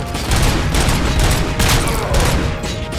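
Rapid video game gunfire on an MSI Claw handheld, a loud, dense run of overlapping shots across the whole stretch with no speech.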